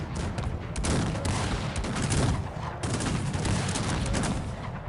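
Massed musket volleys crackle almost continuously in a battle in Cossacks 3, dense overlapping shots forming a loud, sustained fusillade with brief lulls.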